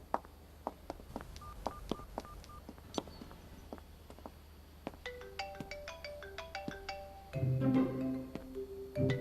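A phone keypad dialing in an office, a quick run of separate beeps followed by a longer rapid sequence of tones, ending in a louder warbling tone, clear and close with no talk.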